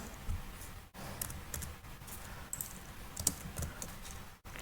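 Fingers type on a computer keyboard, with quiet irregular key taps and clicks over several seconds, close and soft, with no one talking.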